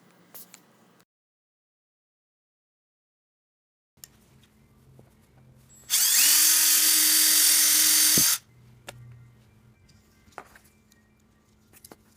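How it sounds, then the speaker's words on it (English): A power drill whirs loudly for about two seconds, a steady high-pitched grind through plastic pipe, surrounded by quiet handling noises and a brief silence. "I'm going to drill a hole in the pipe to connect it with the zip ties."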